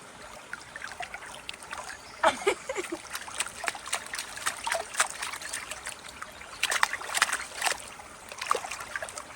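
Water flowing in a small woodland brook, a steady close trickle and burble with scattered brighter splashes throughout, heard alone without talk.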